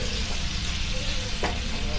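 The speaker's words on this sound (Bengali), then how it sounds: "আস্তে আস্তে করে আমি অল্প কম হিটে ভেজে নেব" Onion paste fries gently over low heat in a pan, a continuous close sizzle with faint stirring scrapes and no one talking.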